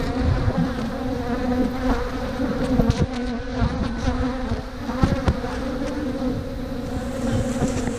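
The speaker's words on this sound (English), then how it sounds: "there's bees in here, but they're just not doing it" Honey bees in a hive fill the air with a dense, steady buzz close up, sharp ticks and knocks breaking through now and then.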